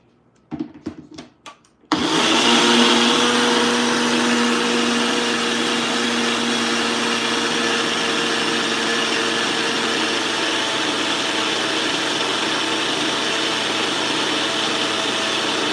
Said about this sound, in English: I am going to give this a blend.